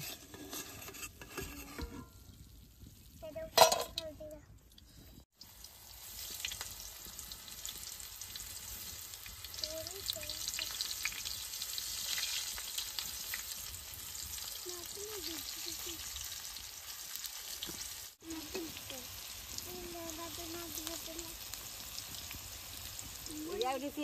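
Banana stem chips fry in hot oil with a steady, close sizzle and bubbling, broken early by a few stirring clatters, while a voice talks briefly over the cooking.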